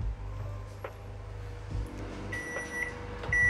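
A microwave oven hums steadily with a low drone, then a few high electronic beeps sound near the end.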